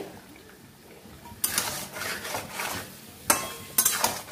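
Chicken curry with salt being stirred in a pan, faint at first, then bursts of scraping and sizzling as a utensil works through it, with a few sharp metallic taps near the end.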